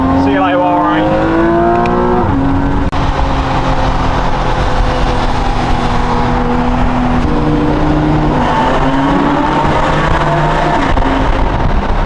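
A car engine drones steadily on the road into Monaco, with gear changes shifting its pitch and a constant loud cabin roar, while someone talks over it.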